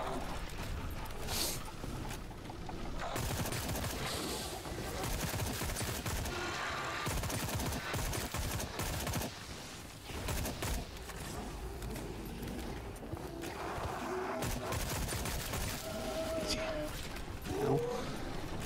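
Video game gunfire in the horror shooter Sker Ritual comes as repeated rapid bursts of shots and clattering mechanisms, loud and dense, with someone talking over parts of the fighting.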